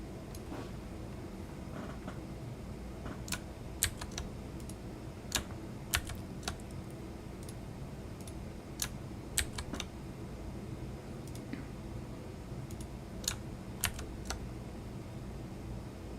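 Computer keyboard typing in scattered clicks and short bursts, close and fairly quiet over a steady low hum of room noise, with no voices.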